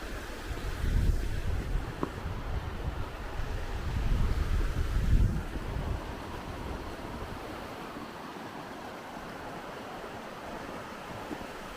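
Steady rushing water of a creek fills the scene near an old log bridge, broad and continuous, with wind buffeting the microphone and no voices.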